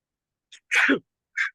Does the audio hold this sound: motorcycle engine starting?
no